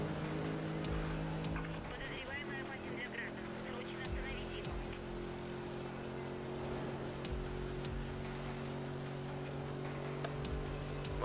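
A car racing along the oncoming lane with nitro in the video game Need for Speed Rivals, its engine droning steadily with a sustained tonal hum and road rush throughout.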